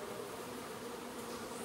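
Honey bees buzzing in a hot room used for honey extraction, a faint, continuous droning hum with no breaks and no talking.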